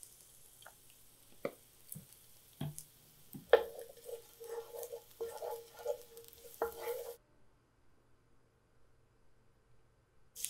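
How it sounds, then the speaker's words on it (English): Sliced garlic cooking in olive oil in a large pan over medium-low heat: quiet, intermittent pops and patters close by, falling silent partway through. "After sautéing that garlic for a couple minutes"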